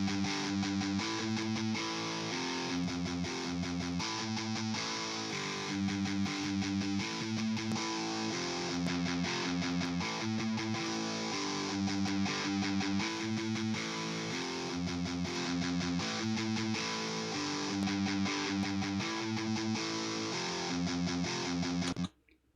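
Heavy, saturated electric guitar through a 5150-style amp plays chugging, palm-muted riffs with steady rhythm, loud and continuous until an abrupt stop.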